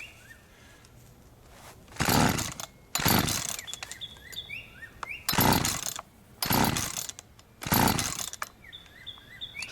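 A chainsaw engine revs in four or five strong bursts of a few seconds each, dropping back to a rough low idle between them, with faint mechanical clinks in the gaps.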